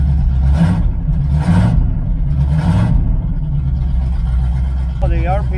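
A 1985 Chevrolet IROC-Z engine runs at a high idle, a loud, steady close-up drone with a speaking voice heard over it in bursts.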